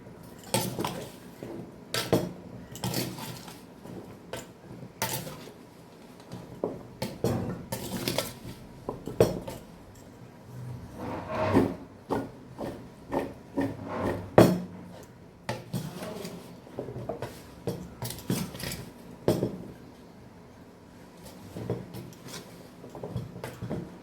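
Papaya pieces are mixed with salt in a dish, giving irregular clinks, scrapes and knocks of a utensil against the bowl, with bursts of rattling activity and short quiet pauses.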